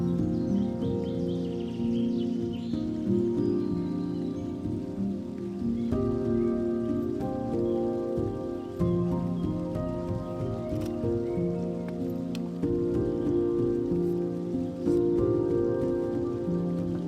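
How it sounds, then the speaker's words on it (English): Steady rain patters on a surface nearby, a dense continuous hiss with occasional louder drips, no voices. "This time it's been raining."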